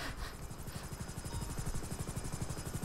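Rotor thump of a helicopter in the video game GTA 5, a steady fast chopping beat with engine whine, close and fairly faint, running alone.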